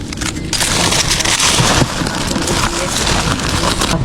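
Constant dense patter of light drizzle on a surface, close and fairly loud, with no voices.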